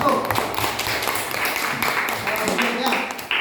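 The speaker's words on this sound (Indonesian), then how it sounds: "tepuk tangan buat kelompok 1" A class of students in an Indonesian school claps for a group that has just finished presenting, a steady patter of many hands filling the room with voices murmuring underneath.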